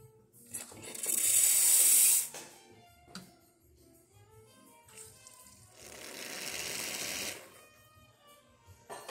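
The steam wand of a Quick Mill Anita espresso machine, under test after a pump replacement, gives two close hissing bursts of about a second and two seconds, separated by quieter clicks and handling noise.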